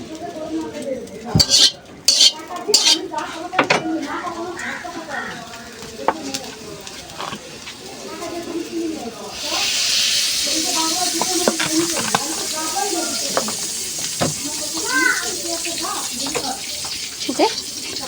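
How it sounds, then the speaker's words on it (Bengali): Chopped onion and garlic drop into hot oil in a wok, starting with a few loud clatters of utensils and then settling into a steady, close sizzle with occasional stirring clinks. "তেলটা গরম হয়ে গেছে, আর পেঁয়াজ কুচানো পেঁয়াজ আর রসুনটা দিয়ে দেব, দিয়ে লাল লাল করে ভেজে নেব।"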